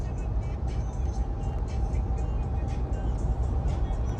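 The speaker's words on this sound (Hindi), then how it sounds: "हमारी थार रोक शौंकते हुए जा रही है भाई।" A Mahindra Thar Roxx cruising along a highway toward Amritsar, giving a steady, fairly quiet cabin hum of engine and road noise that holds unbroken throughout, with no talk.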